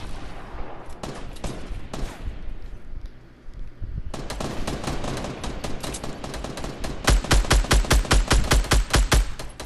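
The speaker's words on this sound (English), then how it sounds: "Somebody was shooting at him." Gunfire in the video game Fortnite crackles in rapid bursts, sparse at first, then dense automatic volleys growing louder and heavier toward the end.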